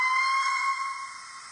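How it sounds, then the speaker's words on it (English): A short steam whistle from a DCC sound-fitted Dapol Hawthorn Leslie model locomotive: one steady, shrill tone of about a second and a half, close and clear with nothing else audible. "We have a short whistle."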